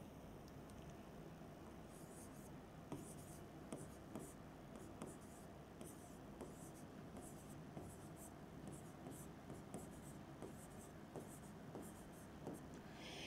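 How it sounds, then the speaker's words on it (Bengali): A pen scratches out a roll number on an OMR answer sheet in soft, close strokes with short pauses between digits, quiet against faint room hiss, with a voice speaking intermittently. "আমি একটা র্যান্ডম নাম্বার লিখছি তোমাদেরকে বোঝানোর জন্য।"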